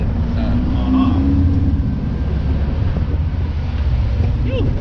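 An air-cooled VW Beetle with air-ride suspension and a short shift kit drives along on a test drive, its engine a steady low rumble with wind noise inside the cabin.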